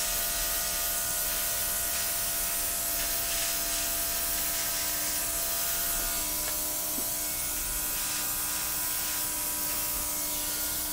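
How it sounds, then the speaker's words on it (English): An airbrush sprays acrylic paint with a steady, even hiss that carries on without a break from start to finish, fairly quiet and close, with no voices. "I'm gonna stop with the airbrush right now"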